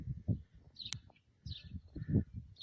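A pet bird gives a few short, high chirps up close, spaced apart, with soft rustling and handling noises in between.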